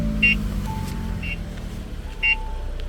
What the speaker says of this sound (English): Now you can hear the car beeping away.